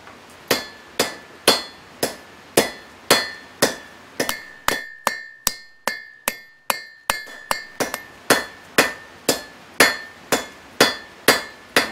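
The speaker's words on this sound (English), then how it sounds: "hammer the notch down to where I know where my stem is going to be" Steady, ringing hammer blows on hot steel on an anvil, evenly spaced, with a brief flurry of quicker, lighter taps in the middle before the regular strikes resume.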